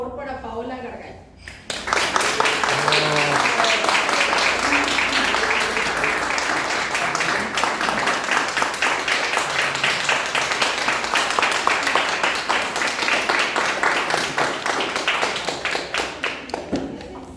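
Sustained audience applause at a literary short-story contest event, steady dense clapping for about fifteen seconds after a brief spoken introduction, loud and continuous throughout.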